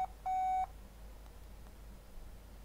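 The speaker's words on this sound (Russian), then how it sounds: "там он факс отвечает" A fax machine answers a phone line with a steady high beep tone, brief and clear, following a shorter chirp, with quiet line hiss around it.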